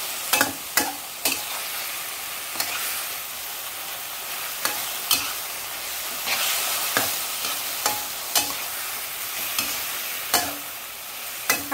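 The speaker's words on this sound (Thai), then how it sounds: "ใส่ลงไปเลยค่ะผัดเร็วๆค่ะ" Pork frying in a hot pan with oil, sizzling, with repeated sharp scrapes and clacks of stirring at an uneven, brisk pace.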